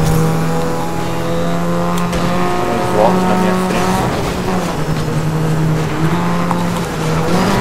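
A race car engine in the Grid racing game holds a steady droning note with gear shifts and brief tire squeals, under someone speaking Portuguese.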